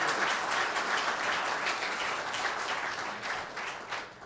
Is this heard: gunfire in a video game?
no